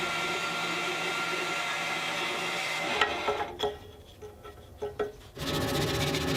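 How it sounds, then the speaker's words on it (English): Small wooden bracket pieces that were cut on a bandsaw are sanded to remove splintered edges. A steady abrasive rubbing turns into a series of short scraping strokes and then returns to a continuous grinding hiss. "After a quick sanding just to remove any splintered edges"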